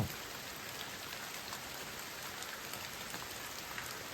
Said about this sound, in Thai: แล้วตอนนี้ฝนยังตกอยู่